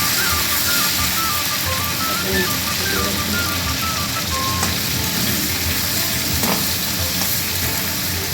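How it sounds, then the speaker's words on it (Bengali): Paneer frying in a small amount of oil, a constant close sizzle and crackle with occasional utensil taps and scrapes, no talking. "সামান্য তেলে এটা আমি ফ্রাই করবো।"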